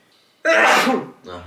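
A single loud, close sneeze bursts out after a quiet moment, followed by a brief spoken reaction.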